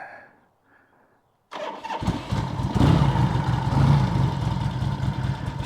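A Harley-Davidson Ironhead XLCR motorcycle engine cranks after a near-silent pause, catches and settles into a rough, loud, lumpy idle close by.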